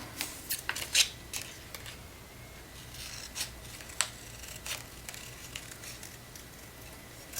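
Scissors snip through a printed photo being trimmed for a travel journal, giving a series of soft, close, irregular cuts and rustles at a quiet level with no voice.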